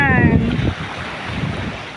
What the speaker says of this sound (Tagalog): binibigyan pa talaga ako ng hangin